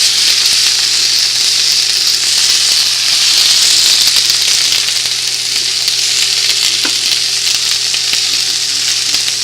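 Asparagus grilling on a stove-top pan, giving a loud, constant hissing sizzle with a faint hum beneath, close and unbroken throughout.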